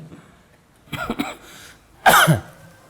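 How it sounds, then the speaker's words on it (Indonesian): A cough, then another louder cough, near and alone, in a mosque during an Islamic lecture. "Ini batuk terus."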